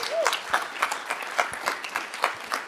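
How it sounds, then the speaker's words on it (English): Audience applause at a property investing event, a steady patter of clapping filling the room, with a brief vocal whoop near the start, moderately loud and continuous. "So great applause for you guys."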